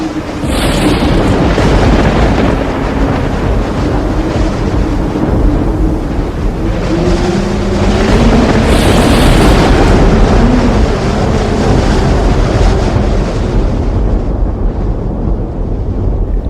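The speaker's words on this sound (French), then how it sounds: "Les vagues furieuses engloutirent rafiots et cargos." Heavy, roaring surf churns continuously with deep rumbling booms and gusty wind, loud and close throughout with no voices.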